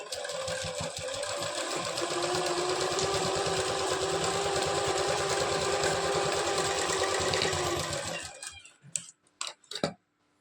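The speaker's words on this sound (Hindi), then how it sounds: "बिल्कुल किनारे किनारे हमें सिलाई लगानी है" A sewing machine runs steadily as it stitches a straight seam close to the edge of a belt blouse, a fast mechanical whir and tick at close range. It stops near the end, followed by a few scattered knocks and handling sounds.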